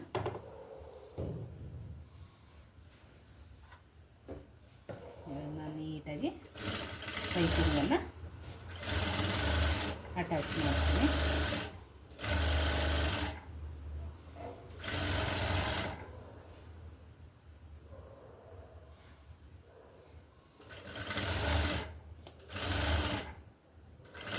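Electric sewing machine stitching piping onto a designer blouse, sounding in bursts of rapid whirring stitches broken by pauses, with someone talking in between.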